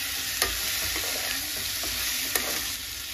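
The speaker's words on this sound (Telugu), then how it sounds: "ఒక 1 మినిట్ ఫ్రై చేసుకోండి." Ivy gourd (tindora) pieces frying in a pan with turmeric, with a steady soft sizzle and a few scraping stirs of a spoon through the vegetables, close by and alone.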